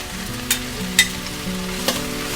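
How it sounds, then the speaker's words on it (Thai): Carrot, potato and shiitake mushrooms stir-fried in a pan, a steady sizzle broken by a few sharp scrapes of the spatula, close and alone. "ทีนี้เราก็ผัดต่อจนกว่าเขาจะสุกเลยนะคะ"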